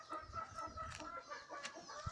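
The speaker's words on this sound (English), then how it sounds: "we have about 4 hens brooding in various nests that we have" Brooding hens sitting in nests cluck softly and continuously, a faint, low murmur of fowl sounds with occasional sharper notes.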